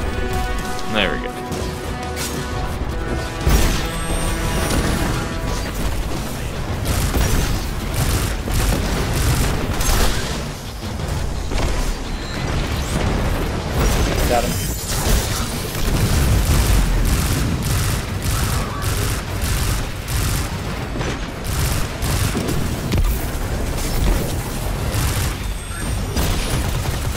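Continuous rapid weapon fire from the Starblade in Destiny 2, dense booming shots and impacts layered under game effects, with players talking over it throughout.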